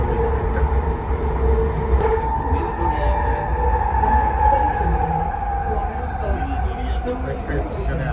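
Metro train in Canada running at speed, a loud steady rumble and droning hum of the carriage with faint rattles, while a person talks over it.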